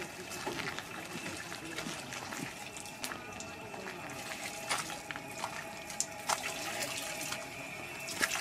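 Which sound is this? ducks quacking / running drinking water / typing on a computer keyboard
running drinking water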